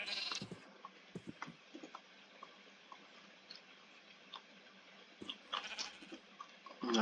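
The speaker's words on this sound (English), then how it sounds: "A baby sheep. But no rainbow sheep. Just normal everyday" Sheep and a baby sheep in the video game Minecraft bleat in short, scattered calls over a quiet, steady background hiss. A louder cluster of bleats comes near the end.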